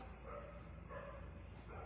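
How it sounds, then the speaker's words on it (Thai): A dog barks faintly and far off at night at an old site in Thailand. A few short barks sit low beneath steady background noise. "หมามันเห่าทุกคนเห็นปะ"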